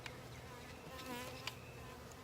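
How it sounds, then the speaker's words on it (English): A soft, close drone of honey bees buzzing at a hive after installing a package hums steadily, with individual insects passing near and a few faint clicks. "now we have the bees from the package to the hive"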